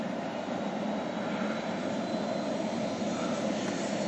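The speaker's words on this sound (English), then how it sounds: "Helicopter started coming overhead" A fire crew helicopter passes overhead above a lake island fire in Algonquin, a steady loud droning engine roar that holds unbroken throughout with no voices.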